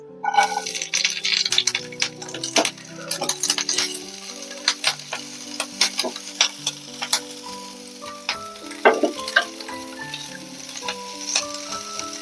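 Garlic and green chillies frying in oil for pan fried chilli fish, with a dense crackling sizzle broken by sharp clinks and scrapes of a spatula stirring in the pan, close and continuous.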